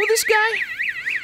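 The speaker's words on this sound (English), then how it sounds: "So, you tripped the alarm on purpose?" A car alarm wails in a rising and falling warble, repeating steadily at close range as a sound effect in a radio drama, with a voice speaking over its opening moments.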